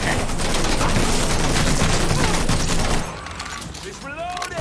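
Dense, sustained gunfire in Mafia 3 rattles loudly for about three seconds as a firefight rages, then cuts down to quieter scattered shots and whooshing effects.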